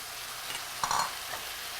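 Chopped tomatoes hit a hot cooking pan with a short burst of sizzling partway through, over a quiet background hiss, with no speech.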